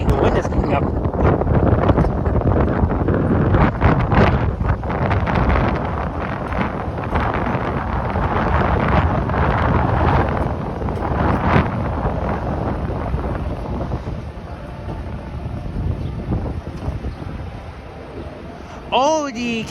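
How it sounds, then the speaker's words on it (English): Strong gusting wind buffets the microphone outdoors in downtown Toronto, a loud roaring rumble that swells and eases for about twenty seconds, with faint street activity beneath. "Holy moly, the wind is coming up."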